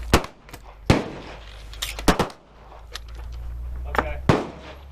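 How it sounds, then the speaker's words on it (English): A Beretta 92 pistol fires at an outdoor gun range: several loud, sharp shots at uneven intervals, with more distant gunfire from other shooters and a steady low hum underneath. "Just keep shooting and I'll see what the pattern's like."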